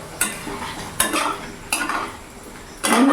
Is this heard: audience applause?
no